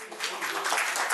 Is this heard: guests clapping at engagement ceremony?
yes